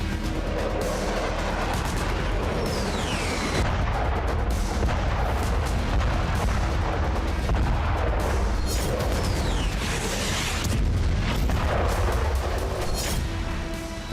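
Artillery and tank fire with explosions during an Israeli military assault on Gaza, a dense, continuous barrage of heavy booms and rumbling blasts throughout, loud and close with no speech.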